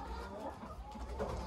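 Brahma chickens in a backyard pen cluck softly and intermittently, low murmuring fowl sounds at moderate distance over a steady low hum.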